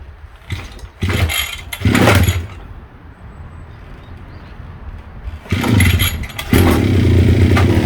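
A grass trimmer's small two-stroke engine is pull-started in loud bursts: three short sputtering attempts, a pause of quiet background, then it catches and keeps running at a steady rough idle.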